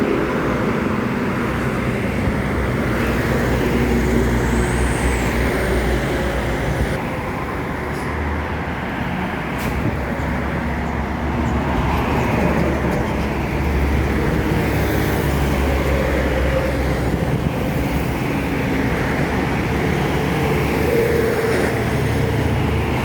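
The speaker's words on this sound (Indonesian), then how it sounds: "Ada bus NPM Sultan Kelas Jet Bus 3. Udah nampak dari kejauhan." An NPM Sultan Class Jetbus 3 bus passes on a road, heard as a steady, loud rumble of engine and tyre noise blended with continuous traffic, with no voices.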